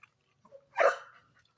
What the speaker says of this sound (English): That's the first bark I've heard out of Bella since she got here.